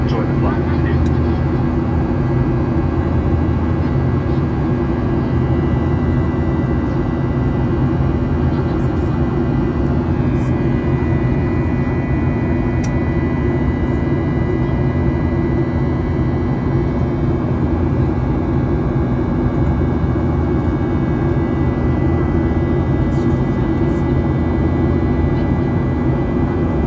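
Steady, loud cabin roar of a Virgin Australia Boeing 737 in cruise on a short flight to Adelaide, an unbroken low engine and airflow hum with faint ticks and no breaks.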